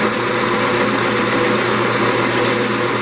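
Sandpaper rubs the top layer of a mahogany candy dish spinning on a woodturning lathe, a steady close whirring hiss with motor hum that holds unbroken throughout.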